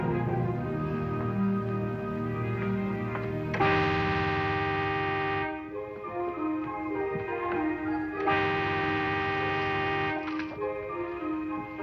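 Old 1950s car horn honking on a rural road near a farm: two sustained, brassy blasts, each lasting about two seconds, sounding over soft background music.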